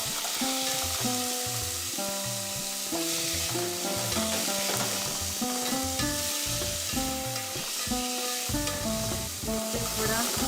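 Chopped tomato fries and is stirred in a pan with a continuous, bright sizzle, heard under loud background music with melodic notes throughout.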